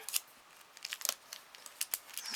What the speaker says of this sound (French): On met un bout de scotch.